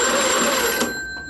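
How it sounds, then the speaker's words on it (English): A telephone bell rings loudly and continuously, a bright sustained electromechanical ring that breaks off near the end, heard up close with no voices. "there's a reason that the signal rings and then pauses and then rings and then pauses"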